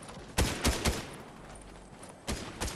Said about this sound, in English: He's shooting at a tree.